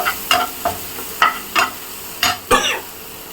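A spoon stirs ginger and garlic sautéing in a pan, giving six crisp scraping strokes at an uneven pace over a constant sizzle, close up with no talking.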